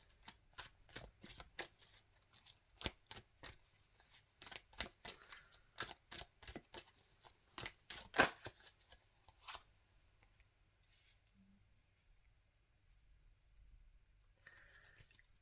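Tarot cards are shuffled and dealt in a quick run of crisp snaps and flicks over roughly ten seconds, close and fairly loud, followed by a few soft handling rustles and near silence.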